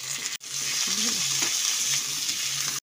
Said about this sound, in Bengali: আলুটা দিয়ে পেঁয়াজের সঙ্গে একটু ভালো করে ভেজে নিচ্ছি